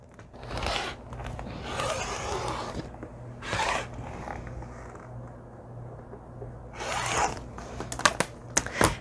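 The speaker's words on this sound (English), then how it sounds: "I'm going to trim it up on the side and cut a 12 1/2 or a 12-inch strip." Fabric strip for an envelope-closure pillow being cut, likely with a rotary cutter: several long, close rasping strokes with pauses between them, and a few sharp clicks near the end.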